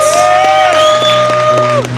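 Crowd cheering and whooping loudly at a live music single and video launch, a sustained roar of voices with a sung or shouted tone riding on top, continuous through the moment before dipping at the end.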